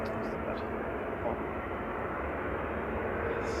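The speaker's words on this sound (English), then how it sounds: "That sounds like an air starter." An aircraft air starter runs at Manchester Airport as a steady, distant broadband roar and whine, with people talking quietly over it.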